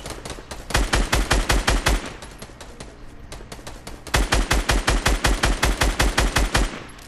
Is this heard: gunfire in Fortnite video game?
yes